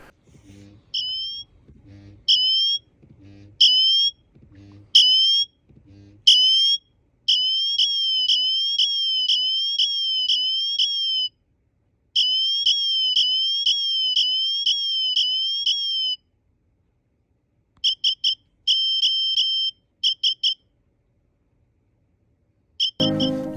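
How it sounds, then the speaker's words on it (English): An Apple Watch Ultra emergency siren sounds loud, piercing electronic chirps in two alternating patterns: spaced single bursts, then long rapid warbling runs, then short SOS-like groups, with silences between and no talking. "It outputs a signature sound with 2 alternating patterns, one indicative of distress and the other of an SOS pattern."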